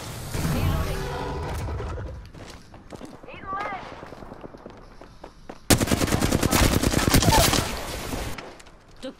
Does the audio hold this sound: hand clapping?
no